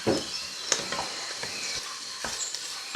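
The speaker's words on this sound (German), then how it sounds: "Jetzt lasse ich das Ganze ja so 5 Minuten vor sich hin köcheln." Onions for tomato soup simmering in a pot after a light browning, giving a soft, steady sizzle with a few small clicks and stirring knocks, heard alone without talk.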